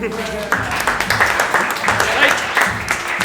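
Audience applause for Raido at a winners' speech, moderate clapping heard under and between a speaking voice, uneven and somewhat thin.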